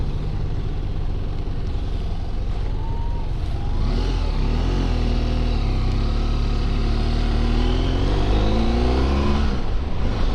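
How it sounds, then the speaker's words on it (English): A BMW F700GS motorcycle rides steadily with a continuous close engine drone, pitch rising and falling as the rider shifts smoothly through gears, with wind noise throughout. "this is a very smooth shifting bike"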